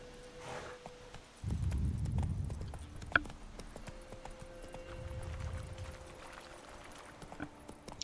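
Hooves of Roach, Geralt's horse in The Witcher 3, clopping in two bursts of rhythmic footfalls over a quiet game soundscape, with a faint whinny-like tone early on.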